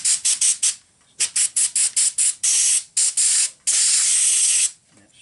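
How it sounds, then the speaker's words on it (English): Compressed-air blower gun blasting dirt off trailer brake parts during a Load Trail brake repair: a series of short loud hissing bursts in quick succession, then several longer sustained blasts, close and alone. "Take this blower,"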